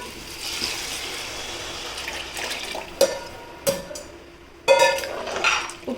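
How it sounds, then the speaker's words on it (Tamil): Water runs and splashes steadily into a cooking pot of mutton biryani, broken by several sharp metallic clinks of the pot and utensils, close and fairly quiet. "பிரியாணிக்கு தேவையான தண்ணி சேர்த்துக்கலாம்."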